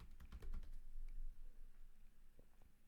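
Fingers typing on a computer keyboard, a quiet, steady patter of soft key clicks close up. The bursts are denser at the start and thin out later, with no talking.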